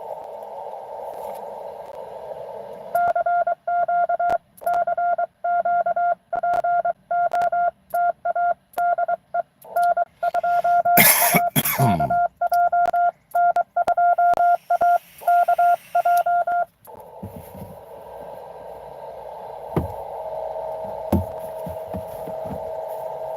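A steady electronic tone on the 10-metre amateur radio band, someone tuning up, chopped into rapid on-off pulses, with a brief sweeping burst of noise midway and static before and after.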